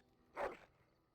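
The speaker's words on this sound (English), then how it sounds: "He barks fiercely and lunges at Sten." A dog in the video game Dragon Age: Origins lets out a single fierce, close bark against a quiet background.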